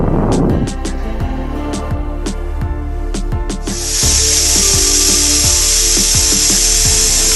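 Loud rhythmic clicking and rattling of a pressure cooker weight while cooking radish sambar, then a sudden shrill, sustained whistle of escaping steam that keeps hissing to the end.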